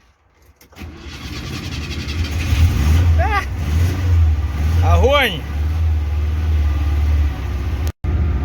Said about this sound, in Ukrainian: Ей, Запорожець, машина класс